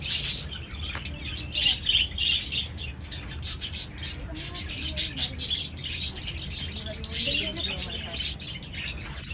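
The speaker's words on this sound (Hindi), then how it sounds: "बहुत सारे मैं तोते दिख गए थे और कितने प्यारे कोफ्तेल।" Parrots, including white ones, chirp and squawk in a busy cluster of bright, rapid calls, with background voices and crowd noise underneath throughout.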